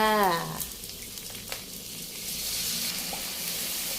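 Spicy field rat curry stir-fries in a hot pan with a steady sizzle. A voice is heard briefly at the start, then the frying carries on alone.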